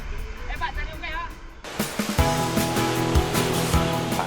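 Big ocean waves break on a rocky coast in East Java, starting as a quiet wash and then surging into a loud, sustained roar, with voices speaking over it.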